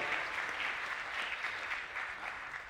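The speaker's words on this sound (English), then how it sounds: "give them a big round of applause" Audience at a lap steel concert gives a steady round of applause, a dense wash of clapping that holds fairly even throughout with no voices over it.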